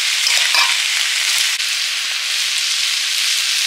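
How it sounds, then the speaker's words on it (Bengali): Snake gourd sautés in a hot pan with a loud, steady hiss and crackle that stays close and constant throughout, with no talk. "এটা কষানো চলছে"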